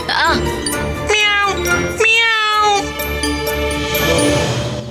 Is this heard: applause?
no